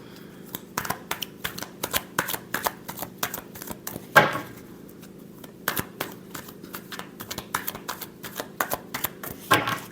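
Tarot cards are shuffled by hand nearby in quick, uneven bursts of crisp riffling clicks and flutters, with brief pauses between runs.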